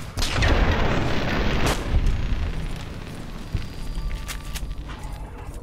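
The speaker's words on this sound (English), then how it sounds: "Perfect opportunity for using the shitty pulse grenades." A pulse grenade detonates in Fallout New Vegas, a loud booming blast that rumbles and decays over a few seconds, followed by fainter crackling and electronic residue.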